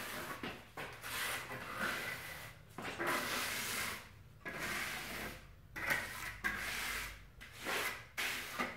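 A large steel trowel smooths wet concrete on a bench top, making long, close rasping scrapes in repeated strokes with brief gaps between passes and no talking.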